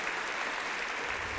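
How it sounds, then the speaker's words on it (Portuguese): A church congregation applauding at a Portuguese-language sermon, a dense and continuous wash of clapping heard from a distance at low volume. "Você pode aplaudir ao Senhor?"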